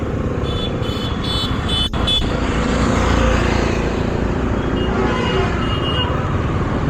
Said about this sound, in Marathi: हो, सकाळचं पण ट्रॅफिक.